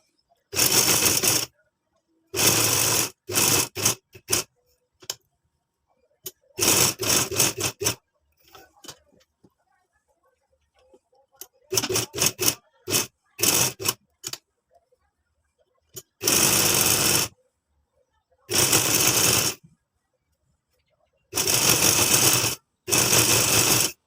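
A sewing machine stitches a dupatta in short bursts of rapid, buzzing whir, separated by silent pauses, close and clear with no talking.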